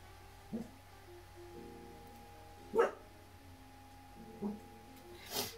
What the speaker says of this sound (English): You hear my dog Link.